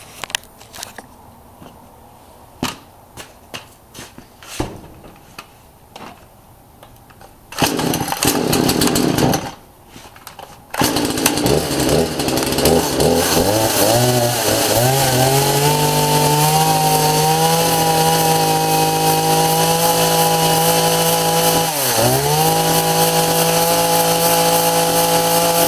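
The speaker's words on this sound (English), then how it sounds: "now I'm going to start the chainsaw and run it for you guys" A rebuilt Husqvarna 235 chainsaw is cold-started with several sharp pull-cord clicks and a brief loud burst, then roars into a steady close, loud running whine, its pitch rising and settling and dipping briefly once near the end.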